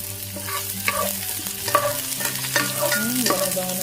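Onion and garlic sautéing in hot oil for ginisang munggo with sotanghon, a close, steady sizzle with a stirring utensil scraping and shuffling through the pan, under a faint background hum.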